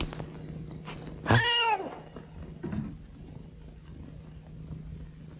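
A single loud, rising-and-falling cat meow sounds close by, followed by a fainter short second call, against a quiet low hum.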